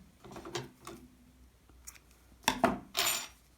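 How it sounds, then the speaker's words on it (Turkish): Scissors cut yarn while knitting a baby cardigan, a few faint metallic snips and clicks close by, the last two a little louder. "İpi kesiyorum."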